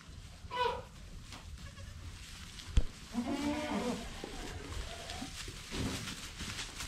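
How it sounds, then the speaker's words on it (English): Baby goats on a farm bleat a few times up close, with short wavering cries separated by quiet stretches of background noise. "Just giving everybody an update on these baby goats."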